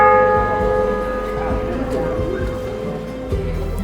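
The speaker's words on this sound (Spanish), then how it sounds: "un turista decidido se atrevió a tocar la campana" Bell atop the clock tower in Cádiz struck by a tourist, a loud ringing tone with a long sustained hum, heard from close under voices and wind.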